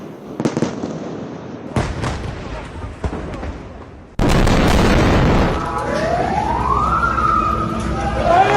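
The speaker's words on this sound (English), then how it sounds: "Its airstrikes on the Strip have been almost non-stop since Saturday." Blasts from airstrikes on the Gaza Strip thunder in repeated heavy booms, with a loud rumbling impact midway followed by sustained roaring noise and a rising siren-like wail in the background.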